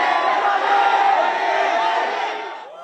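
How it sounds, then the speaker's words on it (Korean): Crowd of fans at an airport arrival of footballer Lamine Yamal and Barcelona, with loud sustained cheering and screaming that fills the space and tapers off at the end. "라민 야말이 나타나자 환호성은 공항이 떠나갈 듯 울려 퍼집니다"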